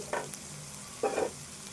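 Onion frying in a pan for an egg dish, a low steady sizzle broken by two short bursts of stirring scrapes, close and fairly quiet.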